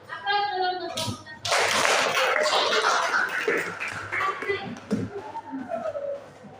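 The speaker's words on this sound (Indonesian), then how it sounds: "Aplaus dulu untuk kelompok" A classroom group of students gives a burst of hand clapping that swells loud and sustained for several seconds, then thins into scattered claps with a voice speaking before and after.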